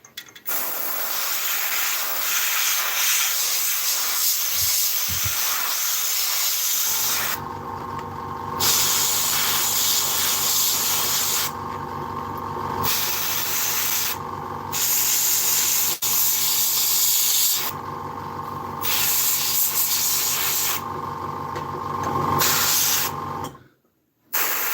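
Airbrush spraying paint onto a 1/48 Italeri Hawk scale model, a loud steady hiss in several long bursts separated by short pauses, with a mechanical hum beneath and a quiet stretch at the start.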